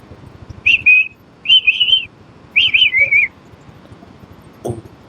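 Three clear whistled bird calls, each a wavering bright phrase of about half a second, spaced evenly and close, followed by a short dull knock; no talking.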